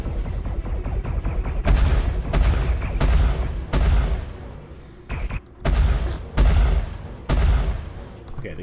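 Spaceship guns in Star Citizen, flown in a Freelancer against a Vanduul swarm, fire in loud booming bursts that recur every second or so across the stretch, with a brief lull midway and no talk.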